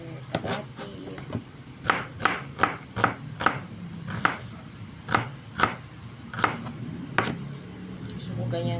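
Knife chopping onion or tomato on a board for sinigang, a dozen or so sharp, evenly spaced knocks, close and clear, over a low steady background hum.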